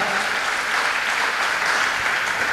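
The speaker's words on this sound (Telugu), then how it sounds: "గట్టిగా చప్పట్లు కొట్టండి" A large church audience at a pastor's sermon claps loudly and continuously, a dense unbroken roar of applause with no voices over it.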